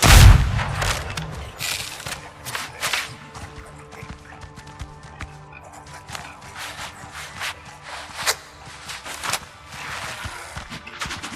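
Gunfire from the video game Windrose, a sea-faring ship setting, sounds as scattered sharp cracks and a dense burst at the start, then repeated shots and impacts over a busy, steady game soundscape.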